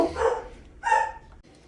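Dogs bark in two short bursts, the first a few mixed yips and woofs, the second a sharper, louder bark after a pause, close by with no talking.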